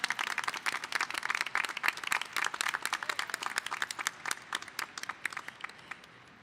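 Audience applause honoring college commencement marshals at a University of Houston-Downtown graduation ceremony, dense, crisp clapping from a large crowd sustained throughout and gradually thinning toward the end, with no talk over it.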